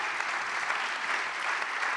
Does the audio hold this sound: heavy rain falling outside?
no